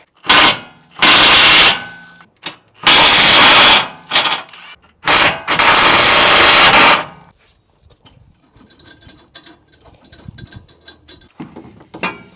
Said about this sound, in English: Next up, we're going to take off those two 21s with our impact.